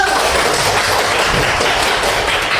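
Students in a classroom clapping their hands together: loud, dense, continuous applause close by, holding at an even level throughout with no pauses.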